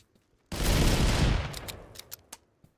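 Sustained burst of loud gunfire in a hard survival video game about hunting cannibals, a dense fusillade lasting about a second, then scattered sharper single shots trailing off.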